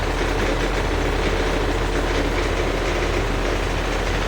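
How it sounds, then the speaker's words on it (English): Meteor engine running steadily in a Spanish-made Spumolina model boat, a continuous dense buzzing drone with constant loudness throughout and no talk. "Spumolina boat shape made in Spain with the original recommended Meteor engine."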